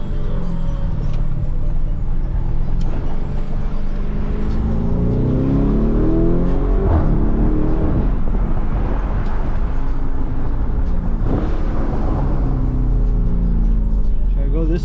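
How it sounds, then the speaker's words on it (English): Modded Lamborghini Urus driving through downtown Los Angeles, a steady loud engine drone with surges of revving, heard from inside the car with people talking over it. "in a Lamborghini Urus."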